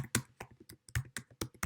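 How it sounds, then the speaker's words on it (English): Keys clack on a computer keyboard in short irregular bursts, close and crisp, as someone types data in with no voices over the tapping. "I'm just typing it in here"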